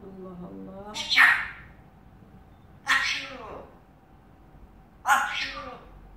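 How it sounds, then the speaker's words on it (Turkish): Three sharp sneezes about two seconds apart, each a sudden burst that trails off quickly, heard close against a quiet room with faint background hum, with a brief voice at the start. "Hapşu."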